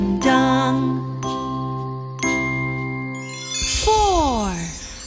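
Bright chiming bells from an animated lullaby ring out loud and near, three sustained strikes spaced about a second apart, followed by a cascading, pitch-bending flourish of tones.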